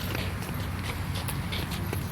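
Horse hooves clip-clop at a walk in a quick, uneven rhythm, close by, with faint background voices and ambient noise around them.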